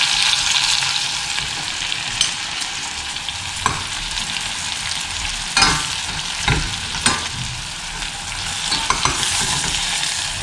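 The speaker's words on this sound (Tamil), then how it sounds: "நல்லா வதக்கிக்கோங்க எண்ணெயிலேயே." Brinjal sautéing in oil for ennai kathirikai kulambu, loud, continuous sizzle close up, with periodic scraping stirs and turns of the pieces in the pan.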